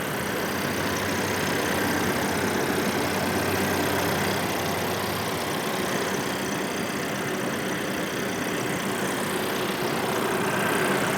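A 2022 VW Taos SEL's 1.5-liter turbocharged four-cylinder runs at a steady idle, a continuous close hum with a broad airy hiss and no distinct changes throughout.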